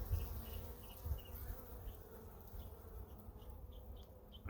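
Bees buzz in a steady, low drone while an open hive is inspected, the swarm close and continuous throughout, with a couple of soft knocks near the start.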